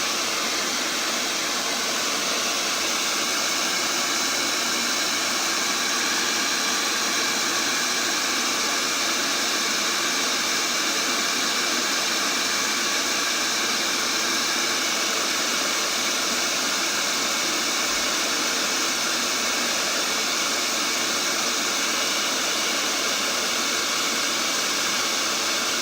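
A hair dryer blows over black paint on a painting, giving a constant, even whooshing hiss that runs unbroken for the whole stretch.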